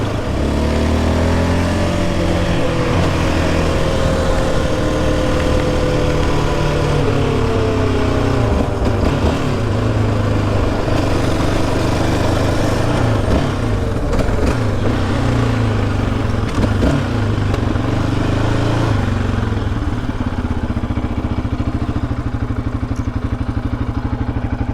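A Yamaha Raptor 700 ATV rides a stretch of the Appalachian Trail. The engine roars loud and close throughout, its revs rising and falling, with rattling clatter from the rough ground.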